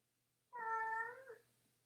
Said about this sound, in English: Winnie here in the back is meowing like crazy.